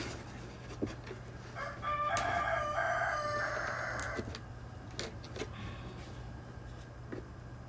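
Chickens and a rooster crow and cluck outdoors at a moderate distance, with one clear crow rising over a steady low hum and a few scattered sharp clucks and knocks around it.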